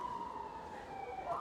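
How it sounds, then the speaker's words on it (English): An emergency vehicle siren wails somewhere in a city centre, heard faintly at a distance as a single slowly sliding tone over a low background of wind and traffic. "sirens, yeah, I tell you, we are in the city centre here"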